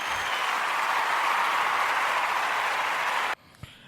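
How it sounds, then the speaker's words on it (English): Sustained applause-like clapping fills the air loudly and evenly for over three seconds, then cuts off abruptly into near silence with one small tap. "So, I'm going to clap that up real quick."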